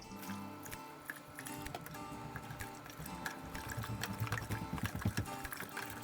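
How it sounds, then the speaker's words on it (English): Water poured into a container of honey while making mead at home, a faint, steady trickle and splash that grows slightly busier toward the end. "So let's add some more water."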